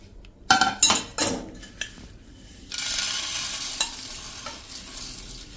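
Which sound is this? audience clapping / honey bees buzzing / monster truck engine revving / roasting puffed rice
roasting puffed rice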